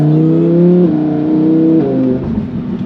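A Lamborghini sports car engine revs hard and loud, its pitch climbing and then dropping sharply twice as fast automatic gear shifts cut in, close and steady with no talking.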